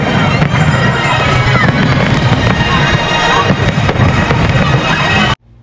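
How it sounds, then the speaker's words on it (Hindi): A fireworks display at Global Village's open-air venue: a dense, loud barrage of crackling bursts and booms rolling continuously for several seconds before cutting off abruptly. "तो आइए पहले यहाँ आतिशबाजी से महसूस होते हैं।"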